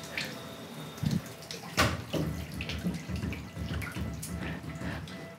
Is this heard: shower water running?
yes